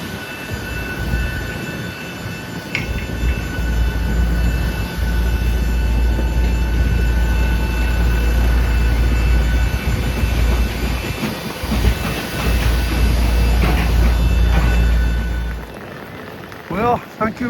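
A passenger airplane lands at Kaunas, Lithuania, in February. A loud, continuous engine roar and rumble carries through most of the clip, then drops away sharply near the end.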